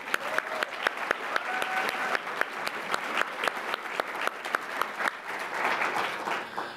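An audience at a 2019 Black Excellence awards ceremony applauds steadily, a dense even wash of many hands clapping that carries from start to finish with no one speaking.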